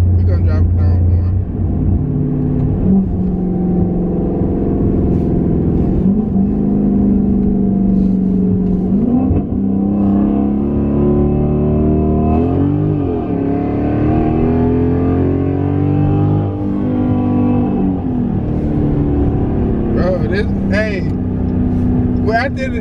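A Dodge Charger Scat Pack engine rumbles and revs from inside the cabin, rising and falling through several throttle pulls, loud and continuous, with people talking over it.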